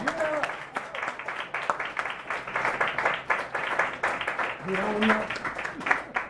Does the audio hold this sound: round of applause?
yes